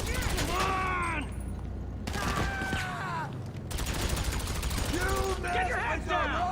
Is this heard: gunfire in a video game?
yes